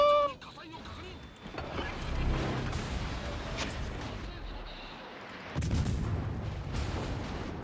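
Battleship secondary guns firing in the naval game World of Warships, a dense run of booming reports and rumbling blasts over continuous engine and water noise, with voices talking throughout.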